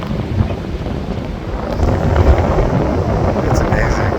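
Wind blows hard across the microphone at a Florida beach on the ocean, a loud, continuous rumbling buffet that swells slightly midway and never lets up.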